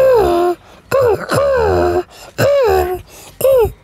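A voice imitates a pigeon, making a run of separate throaty, swooping cooing calls of about half a second each, close and loud.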